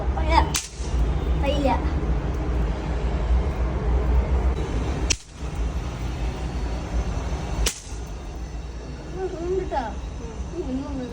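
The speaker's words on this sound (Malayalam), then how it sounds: "ഞങ്ങളങ്ങനെ ചെറിയ രീതിയിൽ പടക്കം പൊട്ടിച്ച് വിഷു അങ്ങ് ആഘോഷിച്ചു" Three sharp, loud cracks spaced a few seconds apart, like snap firecrackers bursting for Vishu, with people talking in between.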